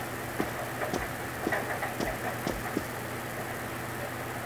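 Steady rain falling at night in the video game Persona 4, a constant soft hiss with a few faint clicks and low thuds scattered through it, no voices.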